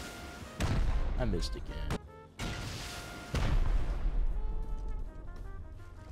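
Heavy MLRS rocket barrage battering base turrets in the game Rust: a string of loud booming impacts and bursts in quick succession, mixed with talk throughout.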